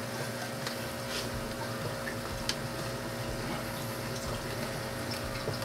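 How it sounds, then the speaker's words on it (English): Skimmate pours out of the collection cup of a Tunze Comline DOC Skimmer 9012 DC as a steady, continuous trickling of liquid over a constant aquarium pump hum, with no talking. "pour the skimmate on this one"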